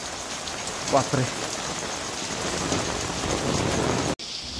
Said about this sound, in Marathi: त्यांनी हजेरी लावलेली आहे पावसाने.